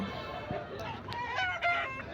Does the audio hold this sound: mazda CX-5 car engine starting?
no